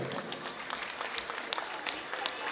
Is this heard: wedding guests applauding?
yes